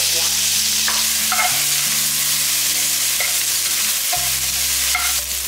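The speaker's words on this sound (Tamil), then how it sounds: "இதுலேயே எடுத்து போட்டு வதக்கிக்கலாம்" Tomatoes sizzle and fry loudly in a pan, with steady crackling and occasional stirring scrapes throughout.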